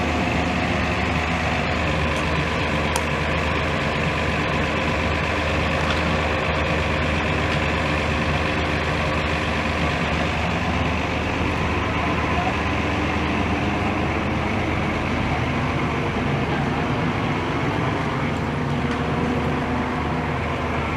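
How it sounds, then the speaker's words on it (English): A demolition machine's diesel engine runs continuously in a building basement, with a steady loud low rumble that never stops. "you can still hear the engine, so it's not really turned off yet"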